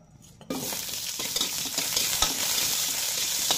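Onion sautéing in hot oil for a bitter-gourd beef dish, a steady loud sizzle that starts abruptly after a brief quiet moment, with spoon-stirring scrapes and small crackles running throughout.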